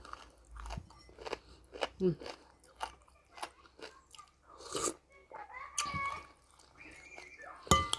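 Someone eats soft pork bone soup, biting and chewing crunchy cartilage up close with irregular wet crunches and light clicks, leaving short pauses between bites.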